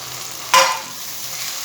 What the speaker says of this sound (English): Again we'll saute it for 1 to 2 minutes.